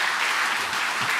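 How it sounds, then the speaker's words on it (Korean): Steady applause from a studio audience welcoming a Buddhist monk onto a talk show, a dense continuous clapping that fills the whole moment at even loudness with no voices over it. "박수로 맞으세요."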